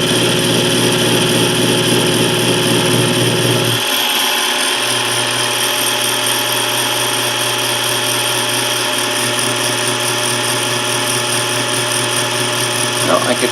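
A South Bend toolpost grinder on a lathe runs with a loud, steady motor whine and high-pitched buzz, its tone shifting partway through as the load changes, then continuing evenly.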